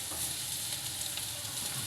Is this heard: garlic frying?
yes